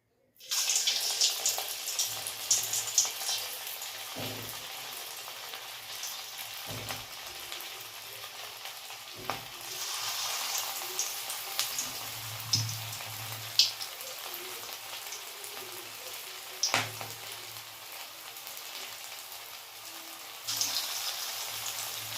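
Veg manchurian balls of shaped vegetable mixture frying slowly in hot oil, a steady hissing crackle throughout with occasional louder pops and low bumps from handling the pan, no talking.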